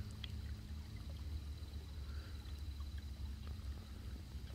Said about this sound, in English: Try a little more of the moving water